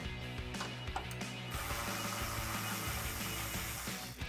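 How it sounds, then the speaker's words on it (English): A ratchet with a 10mm socket backing out headlight bolts on a 2005-2009 Ford Mustang, with rapid, close, rhythmic clicking of the pawl in quick bursts and no talking. "I'm just going to use my 10mm socket again to remove the 3 bolts that hold the headlight into place"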